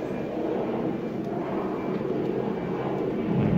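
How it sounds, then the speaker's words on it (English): Steady broadband roar of airplanes coming in to land near a hotel in Bangkok, Thailand, heard from outdoors as a continuous distant rumble that swells slightly toward the end. "You can hear the planes coming in."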